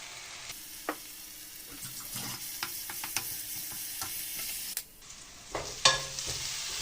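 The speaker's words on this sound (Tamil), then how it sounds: "நம்மளோட இஞ்சி பூண்டு பச்சை மிளகு பேஸ்ட்டு கொஞ்சம் வதங்கியாச்சு" A ginger, garlic and green chili paste sautés in a pan for chicken rice, crackling softly while a utensil stirs and scrapes with intermittent clinks.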